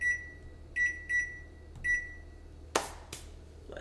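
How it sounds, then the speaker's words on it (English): Several short high electronic beeps sound from a kitchen oven timer as buttons are pressed, four spaced tones, followed by a couple of sharp clicks and a faint hum. "So set the timer here."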